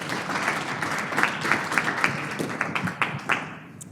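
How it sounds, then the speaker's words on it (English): Conference audience applause for a speaker, a moderate crowd of distinct individual claps that grow sparser and trail off toward the end. "So give her a big round of applause"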